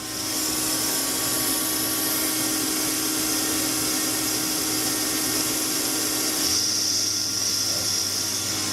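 A 2011 Tsugami S206 CNC Swiss lathe runs its main spindle at 2,000 RPM, a constant close mechanical whir and hum with a faint steady tone, shifting slightly in pitch near the end, no voices.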